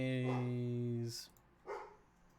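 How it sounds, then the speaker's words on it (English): A dog gives a single drawn-out, yelping bark lasting about a second, fairly close and loud, followed by a short noisy scuffle and a quieter second burst. "That's the new dog."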